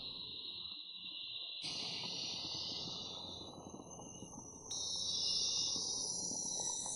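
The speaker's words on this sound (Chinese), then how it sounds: "丛林当中知了的声音" Cicadas in overgrown rural jungle scrub near an abandoned hillside house give a steady, shrill, high-pitched drone with no talk. The drone swells noticeably louder twice, then holds.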